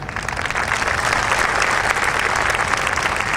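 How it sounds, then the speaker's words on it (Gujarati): Sustained, dense applause from an audience at a motivational talk on achievers, steady and loud from start to finish with no voices over it. "તાળીઓ માટે વિશેષ ધન્યવાદ."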